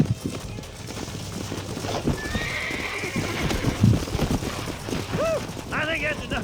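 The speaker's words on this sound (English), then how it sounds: "Mount your horse." Horse hooves clip-clop steadily while riding in Red Dead Redemption, joined by a neigh near the end, close and fairly loud under brief bits of game speech.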